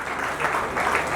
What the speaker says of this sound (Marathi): जोरदार टाळ्या वाजवायच्या आहे, कारण या ठिकाणी अनिल परब साहेबच्या हस्ते पुस्तकाचं